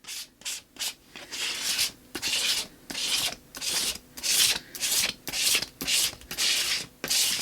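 A palette knife scrapes through drying paint on collage paper in a run of about a dozen rhythmic, gritty strokes, each a short rasp with brief pauses between. The strokes are close and fairly loud, with no voices.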